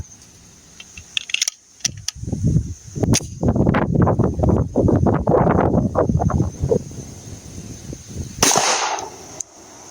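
A .45 pistol fired repeatedly at a porcelain toilet: a couple of sharp, loud shots, then a fast ragged volley of closely spaced reports with ringing impacts and debris, ending in a bright crackling burst.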